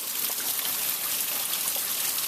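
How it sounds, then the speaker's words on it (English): Rain from Hurricane Irene falls outdoors in Bangor, Maine, a dense, steady hiss of downpour that stays loud and unbroken with no voices. "Yeah, it's raining."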